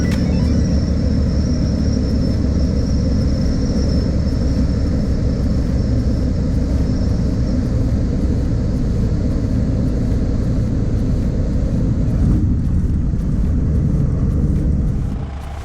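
A light sport airplane cruises over the ocean from Bimini toward Florida, its engine a loud steady droning rumble filling the cabin throughout, with no talking.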